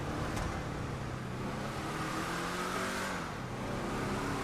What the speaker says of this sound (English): That's one of the greatest engine sounds I've ever heard